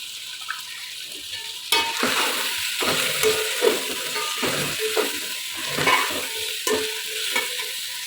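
Chicken biryani masala sizzles steadily in a pan while a spoon scrapes and stirs it in repeated strokes, with no talking.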